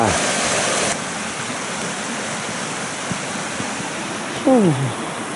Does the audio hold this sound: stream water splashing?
yes